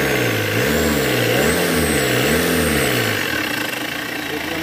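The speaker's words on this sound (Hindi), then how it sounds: "गाड़ी चालू हो गई है, देखिए फर्स्ट क्लास चल रही है" A Tata Indigo CS diesel car engine runs loud and close, its pitch rising and falling in a few revs over a steady rumbling idle, with a faint voice underneath.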